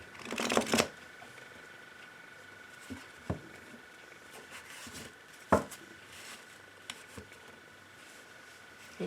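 Tarot cards being shuffled and cut during a reading: a brisk riffling burst at the start, then scattered soft taps and flicks of cards on a surface, close and fairly quiet with low background hiss.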